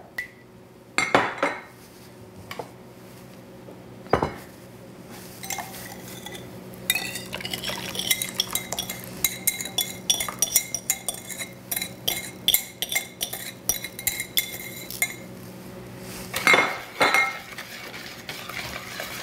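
Wet ingredients whisked into a blended mixture in a bowl for Korean cooking, giving a busy run of quick clinks and scrapes against the bowl that builds to a steady rapid rhythm, close and fairly loud, with no voices.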